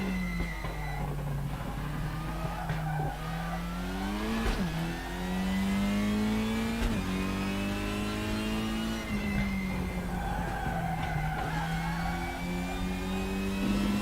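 A WTCR touring car in the RaceRoom Racing Experience racing game drones steadily at mid pitch, with the engine rising and falling through gear changes and a faint whine running underneath.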